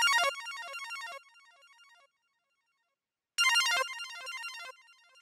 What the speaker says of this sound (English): Without any effects, the ARP sounds like this.